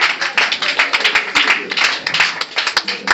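A church congregation applauding, a dense burst of many hands clapping with uneven rhythm and rising and falling swells, loud and close, with no voices over it.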